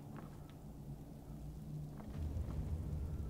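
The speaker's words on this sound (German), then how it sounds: "wo regnet es denn hier rein?" Rain in the video game Skyrim, a steady, soft hiss of falling rain with a low rumbling undertone, faint and continuous with a few light splashy ticks, no talking.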